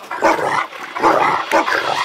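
A dog barks loudly and close by, three separate deep barks spaced about half a second to a second apart, with no voices.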